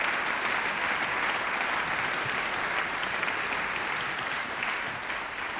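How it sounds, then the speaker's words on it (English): Sustained audience applause at a celebration-of-life gathering, honoring a young band and its musicians; steady, dense clapping from a crowd that holds level throughout. "I think that you could say it also with your applause"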